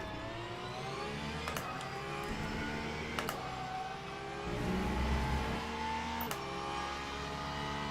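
Race cars in the Le Mans Ultimate video game drone with a continuous engine whine, shifting pitch through several gear changes, with a brief louder surge midway.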